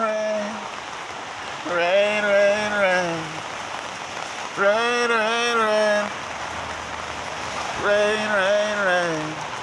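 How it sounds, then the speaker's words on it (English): Steady rain patters across a wide outdoor space in New York City while someone speaks in short bursts over the constant hiss. "Rainy day in New York City."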